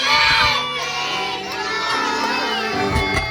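Birthday party guests shouting and cheering together, a loud, dense crowd roar with children's voices and whoops that holds steady throughout.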